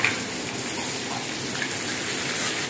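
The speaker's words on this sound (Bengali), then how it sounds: "তার মধ্যে একটু পেঁয়াজ কুচিগুলো দিয়ে দিচ্ছি। এগুলোকে একটু ভালো করে আমি ভেজে নিই।" Chopped onions frying in a pan, a dense, steady sizzle that stays loud and close throughout, with no talking.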